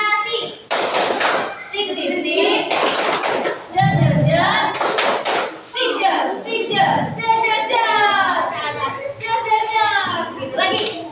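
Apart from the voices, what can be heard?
schoolchildren doing the appreciation clap in class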